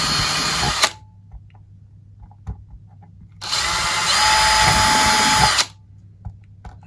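A power drill boring into acrylic plastic airtight tubs, two loud whirring bursts of a few seconds each separated by quiet pauses with small clicks and handling knocks.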